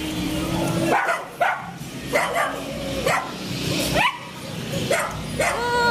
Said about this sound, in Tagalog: Nakita na ako ng alaga ko. Kaya nagtatakahol na po siya.